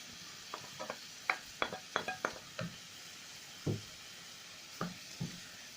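Onions sputter softly in a pan with chicken liver and gizzards as a utensil stirs them in a scattered run of light scrapes and knocks, close but quiet, with no voices.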